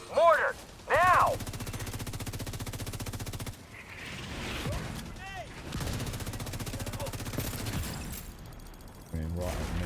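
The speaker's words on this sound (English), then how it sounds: "Mortar, now!" Mortar and gunfire in the video game The Division 2 burst out in heavy, rumbling volleys beneath shouted voices, with sustained firing and impacts running throughout the combat.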